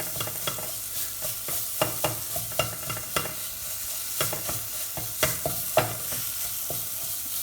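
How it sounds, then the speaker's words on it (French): Dry spices toasting in a pan before tomato sauce is added, soft sizzling under repeated scraping stirs, a series of sharp utensil clicks against the pan at irregular intervals, close and fairly quiet. "C'est comme si je voulais torréfier en fait mes épices."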